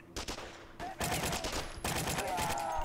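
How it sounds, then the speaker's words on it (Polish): Gunfire in a World War II shooter game set on a Soviet raid toward Berlin: loud, rapid bursts of rifle and machine-gun shots crackle in quick succession, close and continuous. "Ktoś do mnie strzela."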